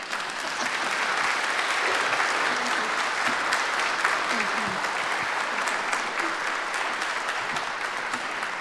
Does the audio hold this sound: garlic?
no